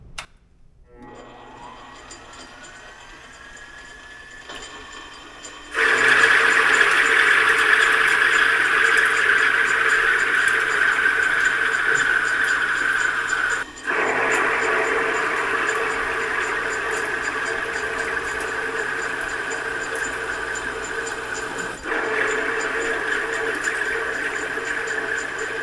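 SUS304 stainless steel being machined at a lowered spindle speed, a loud steady whine with a bright sustained tone that starts after a quieter spin-up and runs continuously with two brief dips, no talk.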